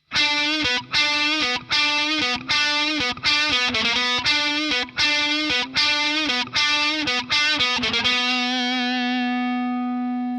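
A distorted electric guitar plays a choppy, repeated riff from a theme in short chugging notes, then rings out on a final sustained chord that fades.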